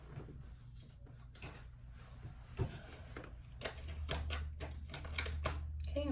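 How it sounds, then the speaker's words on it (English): Tarot cards being shuffled during a reading, soft papery riffles and taps recurring irregularly, fairly close, with a low steady hum underneath and no talk. "I'm just going to shuffle a few more times here"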